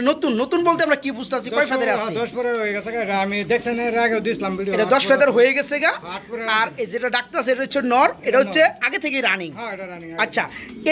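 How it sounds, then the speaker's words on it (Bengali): Mondi pigeons in a loft coo repeatedly in soft, rolling low calls, heard close and continuous under steady conversation between people nearby. "এখানে দেখতে পাচ্ছেন আরেক জোড়া মন্ডি কবুতর রয়েছে"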